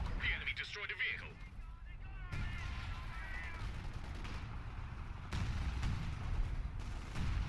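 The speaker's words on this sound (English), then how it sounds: "Artillery going in." WWII artillery barrage in the Battle for Caen video game, with a continuous rumble of distant shelling and bursts of gunfire, a loud thump partway through, and someone commentating over it.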